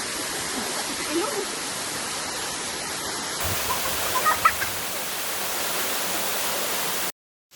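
The waterfall at Qing Dai (Tsing Tai) stream rushes in a continuous, even roar that holds steady before cutting off abruptly near the end.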